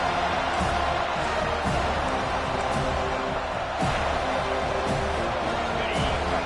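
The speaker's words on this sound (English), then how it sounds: "This crowd, full throat, spreading the eardrums" Loud, dense football stadium crowd roaring and cheering continuously throughout, with broadband noise and a few sharp surges and bursts standing out above the sustained din.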